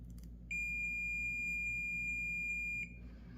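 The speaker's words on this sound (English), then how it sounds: "I should hear a beep from the multimeter" A steady electronic beep from an AstroAI AM33D digital multimeter on a continuity test, one sustained tone lasting a little over two seconds, clear and close against a quiet background.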